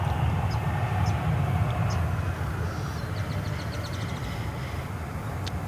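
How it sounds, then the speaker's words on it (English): Airliner on the daily Dubai flight at DFW Airport, heard as a steady, loud, broad engine rumble and roar from a distance, with small faint clicks scattered over it. "So there's our daily Dubai flight"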